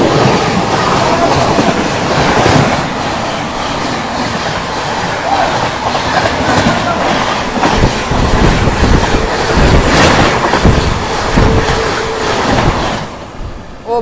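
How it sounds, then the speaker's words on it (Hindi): The Howrah Rajdhani Express rushes past at about 130 km/h, a loud, close roar of wheels and rattling coaches with rhythmic clatter, while someone talks over it. "ईस्टर्न रेलवे की किंग हावड़ा राजधानी निकली अभी 130 पे"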